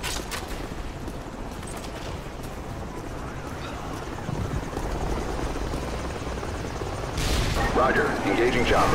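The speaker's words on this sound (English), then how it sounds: "Roger. Engaging chopper." Helicopter in the video game Call of Duty Modern Warfare 2, a loud continuous rotor thrum with gunfire mixed in, growing louder with bursts of shots near the end.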